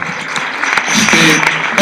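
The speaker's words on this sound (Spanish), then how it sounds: "Lo despedimos con un gran aplauso nuevamente, por favor" Audience applause sends off a doctor after a medical talk on cognitive decline, a steady wash of clapping over the whole short stretch with no voices.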